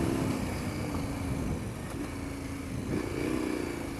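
A KTM 1090 Adventure R motorcycle, a 125-horsepower twin, pulls hard uphill, its engine droning steadily and loudly with slight pitch rises amid heavy wind rush.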